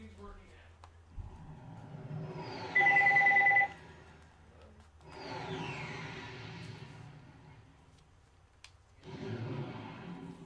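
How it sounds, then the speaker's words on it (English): A telephone rings aboard the Starship Phoenix in Ratchet & Clank: Up Your Arsenal, a sustained electronic tone that comes in short bursts, sitting amid ambient ship hum and game sounds. "And there's the phone again."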